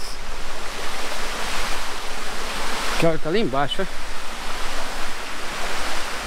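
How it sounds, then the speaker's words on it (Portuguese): Steady rushing water from a waterfall in Três Marias, Minas Gerais, Brazil roars loudly and continuously, with a brief exchange of voices partway through. "Mostrando mais uma cachoeira de Minas"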